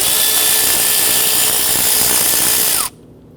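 Power tool loosening 10mm bolts on the intake manifold brackets of a 2011-2014 Kia Sorento, a steady, loud whirring drive that runs unbroken for almost three seconds, then stops abruptly with a falling whine.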